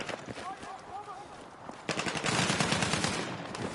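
Machine gun fire in the video game Battlefield 6 breaks into rapid, loud sustained bursts about halfway through, following quieter distant shots and a muffled voice.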